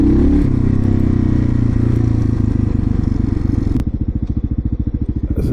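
A cheap $500 motorcycle rides through city streets and onto a golf course path, its engine a loud, steady low rumble that shifts into a choppier, pulsing putter near the end, with no talking.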